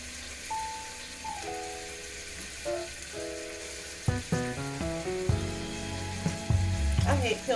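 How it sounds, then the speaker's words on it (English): Meat and onion sizzle in a pan over lowered heat for black-eyed peas, a steady soft crackle beneath tonal kitchen noises and clinks that grow busier toward the end. "when the meat and the onion are kind of cooked a little. I don't really want it to cook too fast"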